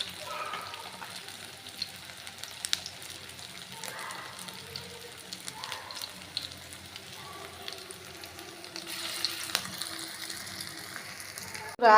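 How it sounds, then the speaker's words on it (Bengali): Shing fish fry in hot oil in a home kitchen, a soft, continuous sizzle that stays low and even, with a brief louder clatter right at the end. "তেলটা গরম হয়ে গেছে, এখন আমি এগুলা ভেজে নেব"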